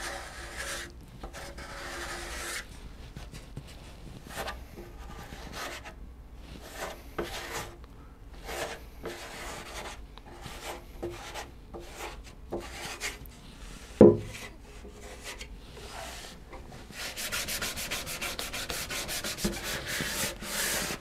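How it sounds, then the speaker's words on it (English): Sandpaper rubbing ebony bindings on the sides of a steel-string acoustic guitar during pore filling, close and steady back-and-forth strokes with a brief knock midway and faster, brighter strokes near the end. "that'll just have to get sanded off"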